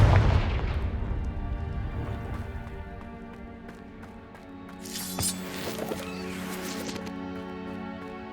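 Confringo blasting spell in Hogwarts Legacy on PC, opening with a heavy boom that decays into a long rumbling tail, followed by a second burst of crackling, debris-like noise mixed with game music.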